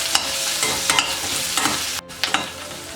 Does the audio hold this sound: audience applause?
no